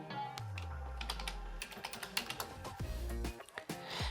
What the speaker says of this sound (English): if I simply type tigers right here